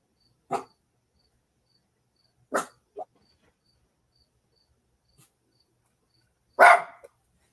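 A dog barks a few sharp times with long quiet gaps, fairly near and loud against a quiet background, the last bark the strongest.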